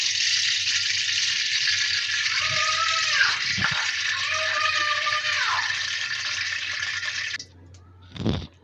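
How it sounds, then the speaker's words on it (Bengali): Mustard oil heats in a pan with a loud, continuous hiss close by that holds for several seconds, then cuts off abruptly and is followed by a brief clatter. "আমাদের তেলটা গরম হয়ে এসেছে"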